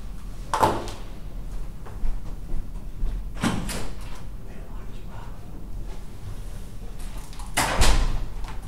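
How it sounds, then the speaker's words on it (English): A door is opened and closed indoors, giving a few separate knocks and bumps spaced several seconds apart over a low background rumble, with voices faintly present. "You want me to go open the door? Close it."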